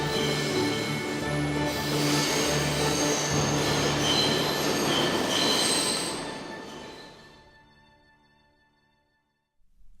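Subway train cars running in New York, loud and close with squealing wheels and a rolling rumble that holds steady and then fades away into quiet as the train passes.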